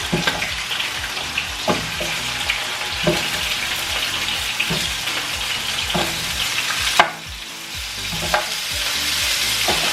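Chicken pieces browning in hot oil in a pan for lo mein, a steady close sizzle with periodic clatter and scrape of stirring throughout, no talking.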